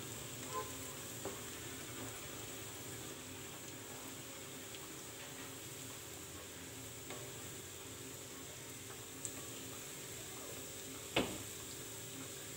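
Sweet dough for kala jamun-style sweets is stirred and mixed in a pan as it browns, a faint continuous sizzle with a few soft scraping taps and one sharper knock near the end.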